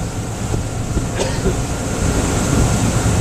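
A Sea Ray 280 Sundancer cruises at about 28 mph and 3,400 RPM, its engine giving a steady, dense rumble mixed with water and wind rush, loud and continuous throughout.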